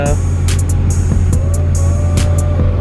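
Acura Integra on a test drive after an upper strut replacement, a steady low engine drone and road hum heard from inside the cabin, with sharp clicks and knocks over it and a person talking.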